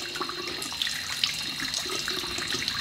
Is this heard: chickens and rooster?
no